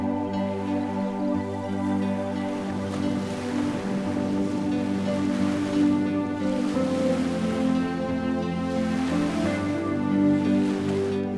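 Waves wash continuously on a roadside beach at Cardwell in tropical North Queensland, a steady broad surf rush with a constant low drone underneath.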